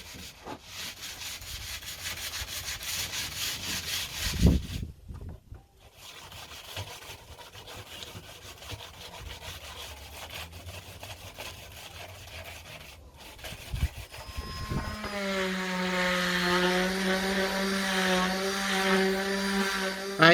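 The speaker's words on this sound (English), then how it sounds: "a lot of that wood was pretty rough, so that needed sanding down" Rough wooden planks being sanded by hand, with long rubbing strokes that start and stop. Near the end a rising motorized whine cuts in, which may be an electric sander.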